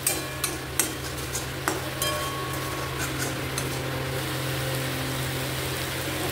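Spice paste and tomato fry in a pan with a steady, close sizzle, opened by a few sharp clinks of a spoon against the pan and continuing alone without talk.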